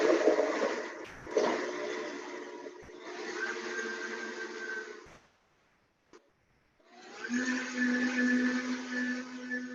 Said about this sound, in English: And then I'm just gonna dip it up in the blender.